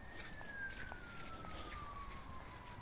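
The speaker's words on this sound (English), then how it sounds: "I can hear them sirens." A siren wails steadily in the distance, its pitch slowly falling, over a constant background rumble.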